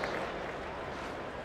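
A cricket crowd claps for bowler Ryan Harris during an Ashes Test. The applause is a soft, continuous wash from distant stands and holds steady throughout, with no commentary over it.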